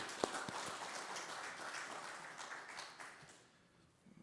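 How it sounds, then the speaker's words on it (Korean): A church congregation applauds at a New Year blessing revival service, a soft steady wash of clapping that thins toward the end, with a few sharper individual claps near the start, heard from a distance. "박수 한번 하겠습니다."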